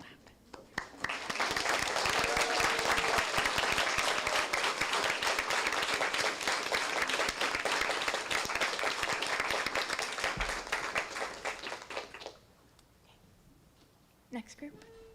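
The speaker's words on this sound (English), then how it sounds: "We're gonna clap." A long burst of steady, dense audience clapping fills a 2025 white coat ceremony hall, holding strong for about eleven seconds before cutting off to near quiet with a few stray claps and faint voices.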